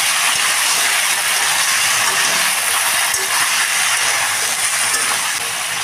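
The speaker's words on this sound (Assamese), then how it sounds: "আৰু ধুনীয়াকৈ এতিয়া ভাজি ল'ম এইখিনি" Cauliflower, carrots, potatoes and peas sizzling as they fry in a pan, a loud, steady hiss close up that runs unbroken with only faint background sounds.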